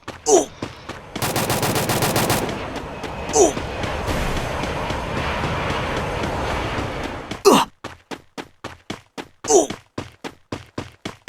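Rapid bursts of gunfire in the mobile shooter Free Fire, loud and close, with sustained automatic fire and separate sharp shots, mixed with game effects and players' voices.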